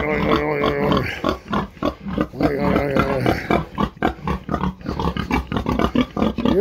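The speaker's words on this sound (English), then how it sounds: "We have apples in here for the pigs." Pigs grunt and squeal in loud, choppy bursts close by on a farm, with a few overlapping calls and brief gaps between them.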